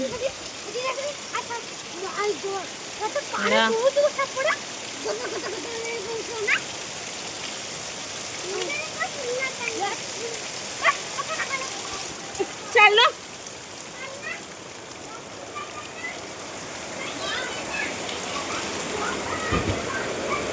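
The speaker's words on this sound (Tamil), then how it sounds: "சரியான மழை பெய்யுது." Steady rain hisses and patters continuously, with scattered splashes and faint voices talking in the background.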